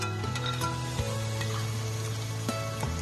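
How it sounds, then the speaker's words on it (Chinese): Pickled vegetables stir-fry in a hot pan after Sichuan peppercorns, with a loud, steady sizzle and occasional stirring scrapes running throughout, close up and without speech. "倒入泡菜，炒几下炒香"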